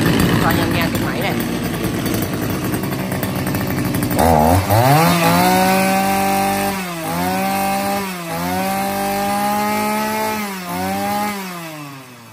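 An H5 chainsaw with a 41 mm cylinder and assisted pull-start runs loudly up close, first rough and ragged, then revving in repeated rising and falling surges before easing off.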